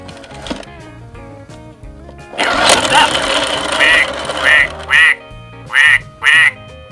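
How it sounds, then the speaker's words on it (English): A Fisher-Price See 'n Say toy quacks like a duck several times in short, loud bursts after a mechanical whirring starts, the quacks growing more spaced and punchy toward the end. "That's a duck. It made a duck sound."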